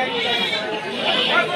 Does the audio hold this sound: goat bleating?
yes